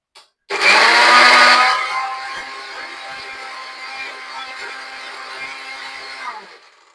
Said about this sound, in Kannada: ಇನ್ನೊಂದ್ಸತಿ ಗ್ರೈಂಡ್ ಮಾಡ್ಕೋತೀನಿ